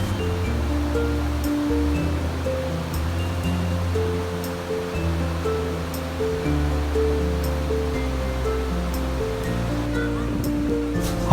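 A shallow stream in the Philippine countryside where people and a dog wade across, its water rushing in a steady, continuous wash under a layer of melodic background tones.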